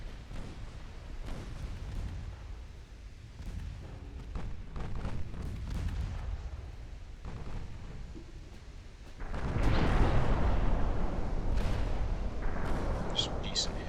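Warship guns fire armor-piercing shells in the naval battle game Ultimate Admiral: Dreadnoughts, a Royal Navy fight off Hong Kong, with scattered dull booms under a low rumble that swells into a louder roaring barrage near the end while a voice talks.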